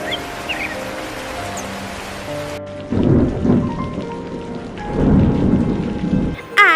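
Rain falls steadily in an animated story while deep rolling thunder rumbles up twice, loud and close, with a short bird-like chirp near the start.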